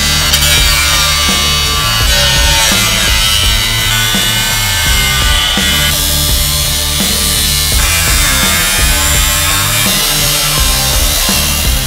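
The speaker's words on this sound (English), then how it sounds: "grind this down to wherever I have to get it to where it's not like rotted out" A grinder works over a rusted, rotted Jeep CJ5 body panel with a loud, continuous rough grinding that sits close and stays steady throughout, with uneven scraping texture and no pauses.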